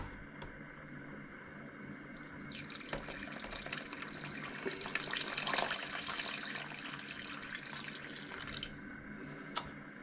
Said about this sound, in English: add some more water to our broth here